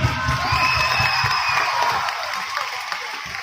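An audience at a live music performance in Dibrugarh claps and cheers for the event committee, a loud dense burst of applause with scattered whoops that eases slightly toward the end.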